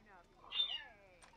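A kitten, one of several baby kitties, lets out a single soft, drawn-out meow close by, rising and then trailing off, with a faint higher chirp at the end.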